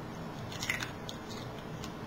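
Soft crunchy bites and chewing of dehydrated raw popcorn made from a processed pine nut mix, a brief crisp crunch near the start under a steady low background hiss.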